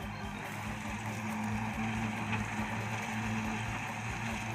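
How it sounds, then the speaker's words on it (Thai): A Kubota tractor engine drones steadily up close, a low, throbbing chug that holds constant throughout, while preparing a pineapple field for ploughing. "ใช้รถไถพ่อก้อย รถไถคูบต้าครับนี่ครับ แรงจริงๆครับ"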